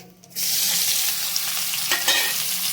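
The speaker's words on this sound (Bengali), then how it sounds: "পেঁয়াজ কুচি করে নিয়েছি পেঁয়াজটা পুরো দিয়ে দিচ্ছি" Chopped onions dropped into hot oil in a pan with cumin, an abrupt loud burst of sizzling that holds as a steady close hiss, with a brief stirring scrape midway and no talking.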